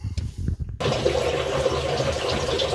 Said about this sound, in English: as you can hear the water running into the cylinder